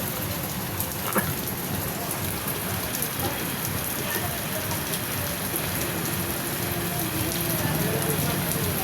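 Steady rain patters on surfaces nearby, a constant dense hiss with scattered drops, continuing evenly for several seconds without speech.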